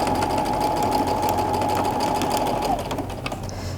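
A sewing machine stitching patchwork quilt triangles hums in a steady, fast, close whir that eases off near the end, with no talk over it.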